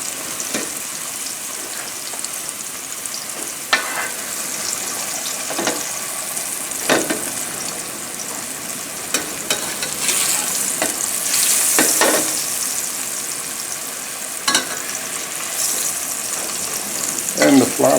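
Salmon fillet sizzles loudly in a hot pan over a high flame with basil, onion and garlic, a steady frying hiss broken by utensil scrapes and clacks as the pan is tilted and tossed.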